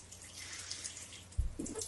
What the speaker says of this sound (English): Do you like the background waterfall sound effects?